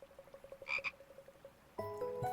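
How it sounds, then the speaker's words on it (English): A frog croaks in a steady series of short, evenly spaced calls, faint and near, followed by a brief louder burst and then a different tonal sound, with no speech over it. "Frog."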